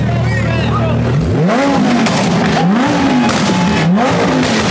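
A Lamborghini engine revs hard several times in a row, each rise in pitch climbing and falling in repeated bursts, loud and close with road noise and faint voices underneath.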